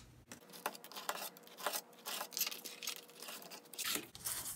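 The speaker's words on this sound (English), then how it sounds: "Now with the utility knife, I'm gonna cut" A utility knife slices through material to cut the borders of a circular base for a baby shower diaper cake, giving a steady close scraping and rasping texture with no voices.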